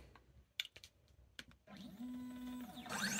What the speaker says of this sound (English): So I'm just going to go ahead and cut that out with the CNC machine.